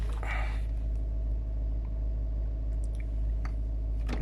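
A Range Rover L322 engine idles in a steady, low, even rumble, close by and unchanging, with a few faint clicks near the end.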